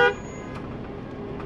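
A Ford Bronco on an off-road trail at Merus Adventure Park in Palo Duro Canyon gives one short, sharp honk at the very start. The horn cuts off quickly, leaving a low, steady engine rumble underneath.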